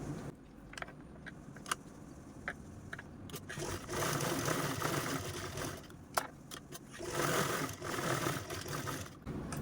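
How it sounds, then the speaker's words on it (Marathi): A sewing machine stitches fabric in two sustained bursts of fast, even mechanical whirring, preceded by a few light clicks and taps, close and moderately loud. "आता आपण यावरतीच स्टिच पण करून घेऊ"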